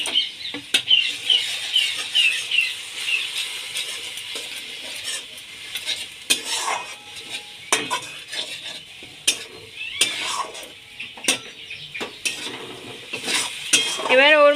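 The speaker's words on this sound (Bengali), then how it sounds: "অল্প পরিমাণে লঙ্কার গুঁড়ো, হাফ চামচ হলুদ গুঁড়ো, হাফ চামচ জিরে গুঁড়ো আর হাফ চামচ ধনে গুঁড়ো দিয়ে ভালো করে নেড়ে নেব।" A spatula scrapes and stirs chili, turmeric, cumin and coriander powder through a gently sizzling pan, with sharp clinks and scrapes at an uneven rhythm throughout, close and fairly loud, no talking.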